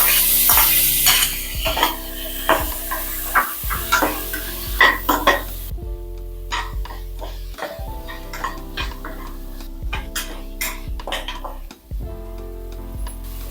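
Tomatoes and onions fry with whole spices in a pan for pudina rice, a steady close sizzle under repeated clinks and scrapes of a spoon stirring against the metal.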